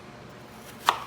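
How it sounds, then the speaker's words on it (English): A single sharp knife chop through a green bell pepper on a cutting board, near and crisp, after a second of quiet room tone. "And I'm going to chop it down into some nice sizes"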